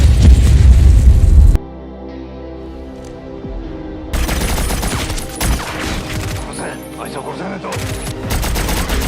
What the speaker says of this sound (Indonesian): Si hacker yang melihat Alex kakaknya tewas dari CCTV, ia pun marah dan langsung meledakkan seluruh gedung tersebut.